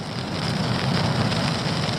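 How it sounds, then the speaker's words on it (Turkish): Dense, steady hiss of heavy rain and gusting wind battering a tent close by, continuous throughout with no voices. "Dışarısı fena şiddetli yağmur ve rüzgar var."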